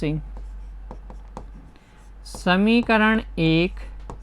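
Pen strokes on paper while an equation is written by hand for a Class 10 maths lesson on linear equations in two variables, giving short scratchy taps followed by a voice speaking.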